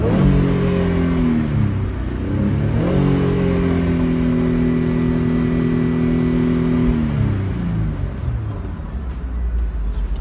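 A Mercedes-Benz E350 convertible with a V6 engine drives steadily with a low, even drone. The pitch climbs, holds and then eases off across two smooth shifts, with no talking.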